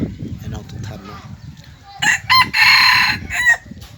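A rooster crows loudly nearby, a drawn-out call rising over a quieter background of voices and clucking.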